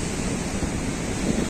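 Sea waves surge and wash in at Rushikonda beach in Vizag, a loud, continuous roar of surf with wind buffeting the microphone, heard alone without voices.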